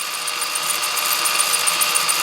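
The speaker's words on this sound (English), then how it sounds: "Not powered itself, but adds an electric drill." An electric drill spins the rotor of a 2016 Meccano Maker System Chinook helicopter model, giving a steady, close high whine with a faint rhythmic squeak, running alone and without talk.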